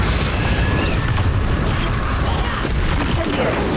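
Confringo and Bombarda explosion spells cast in Hogwarts Legacy, a steady barrage of loud booming blasts and crackling bursts filling the whole stretch, with talk over the top.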